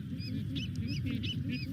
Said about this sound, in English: But this is a black-footed albatross.